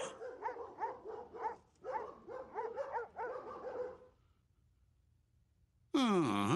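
Several dogs bark and yip in a rapid excited burst in a Simpsons cartoon scene, the barking loud and continuous for about four seconds before dying away, then a sudden bright musical sting.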